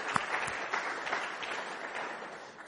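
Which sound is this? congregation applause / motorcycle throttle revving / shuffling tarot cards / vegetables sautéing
congregation applause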